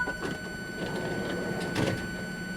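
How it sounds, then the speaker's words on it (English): Passenger doors open on a train on the Kinzigtalbahn line in Train Sim World 5, giving a mechanical sliding sound under a steady electronic warning tone. There is faint cab hum in the background. "Open the passenger doors to allow boarding."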